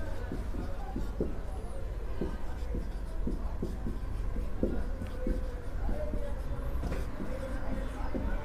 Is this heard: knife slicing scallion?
no